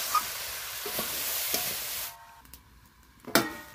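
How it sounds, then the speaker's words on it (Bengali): Ash gourd vegetables sizzle and hiss as they are stirred in a hot pan after salt is added, with soft scraping knocks, then a quieter pause and a final scrape. "আর লবণ দিয়েও আমি আবারও ভালো করে নেড়ে নেব"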